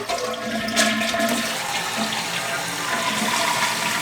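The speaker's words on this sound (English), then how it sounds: "I went ahead and tested it, flushed the toilet." Toilet flushing after being reseated, a steady rush of water that fills the whole stretch at a fairly loud, even level with no talk over it.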